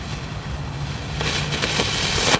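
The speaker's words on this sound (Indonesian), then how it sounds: "kita coba nyalakan mercon yang ada di dalam tank" Firecrackers inside a cardboard toy tank go off with a loud, continuous fizzing hiss that grows harsher partway through, with crackling bursts near the end.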